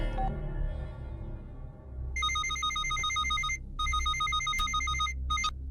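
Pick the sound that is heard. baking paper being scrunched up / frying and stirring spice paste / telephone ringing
telephone ringing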